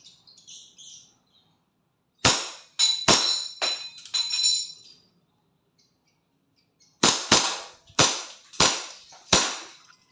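A WE 1911 Classic airsoft pistol fires a string of sharp, snappy shots, three or four in a quick burst, then a pause and five more evenly spaced cracks, each ringing briefly in a quiet room.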